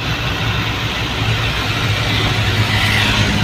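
A steady low engine drone with constant road rumble from a loaded goods truck cruising at speed on a highway, continuous and close throughout.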